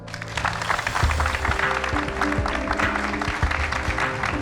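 Audience clapping for a religious teacher at an Indonesian gathering, moderate and continuous over a background hum and low rhythmic thumps.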